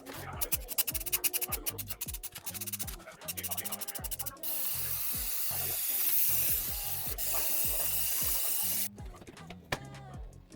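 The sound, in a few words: spraying primer from a spray can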